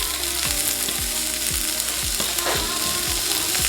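Garlic and tinned mackerel sautéing in a saucepan over low heat give a steady close sizzle, broken by regular scraping stir strokes roughly every half second, with no talking.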